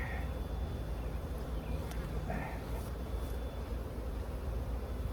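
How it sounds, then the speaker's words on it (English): Steady, dense buzzing of bees around a hive fills the whole clip, a continuous low hum of many bees close by, with faint brief sounds on top. "There's a lot of bees in this box."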